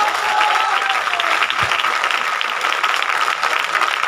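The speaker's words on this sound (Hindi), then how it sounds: "तो एक बार खूब जोर से ताली बजा लो अपने लिए।" An audience at a business meeting claps together, a dense and loud burst of applause that keeps up steadily for several seconds with one low thump partway through.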